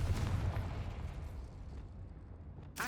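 A Confringo spell explosion in the video game Hogwarts Legacy, a loud booming blast that rumbles and decays over a couple of seconds, followed by a brief bright crackle at the end.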